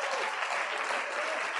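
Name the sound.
church congregation applauding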